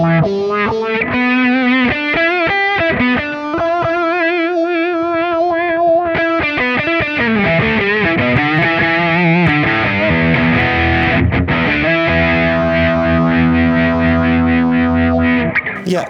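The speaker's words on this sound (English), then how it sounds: "Let's put the wah-wah after the amp there." Electric guitar played through an effects chain with a wah-wah pedal placed after the amp, giving loud, continuous distorted chords and sustained notes with sweeping filtered tone and chorus-like shimmer throughout.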